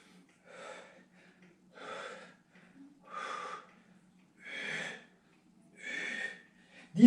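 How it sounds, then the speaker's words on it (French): Slow, even breaths during an at-home taiso exercise session, five long inhale-exhale swells spaced about a second apart, close and fairly quiet with no talking. "On passe à respirer."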